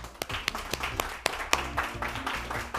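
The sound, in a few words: applause for the judges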